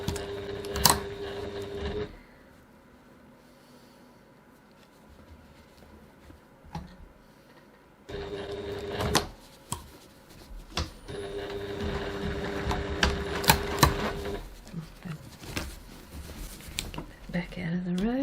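A sewing machine stitches a bag at a stitch length of 2.4 in bursts of rapid mechanical whirring, stopping at quieter pauses, with a nearby voice talking between and over the runs.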